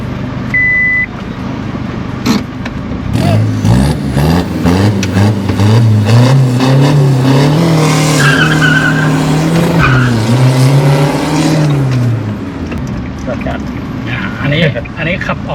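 A modified 1.9 drag car engine revs loudly and close, its pitch climbing and falling through a sustained run, with people talking over it.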